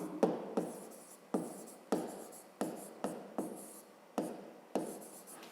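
A pen or pencil writes short strokes on paper while math problem conditions are noted down by hand: eight to nine quick, distinct scratchy bursts with brief pauses between them, close and fairly quiet, with no talking.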